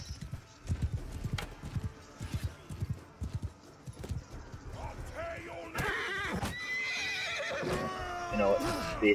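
Horses gallop in a medieval battle in the Bannerlord video game, with rapid hoofbeats followed by loud, overlapping whinnies and neighs amid battle noise and voices.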